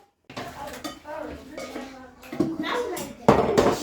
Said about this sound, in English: So let's do the dishes together.